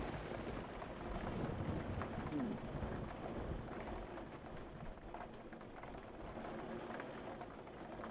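Steady heavy rain pours down in the video game PRIM in a dense, broadband wash, with occasional low rumbles like distant thunder beneath it.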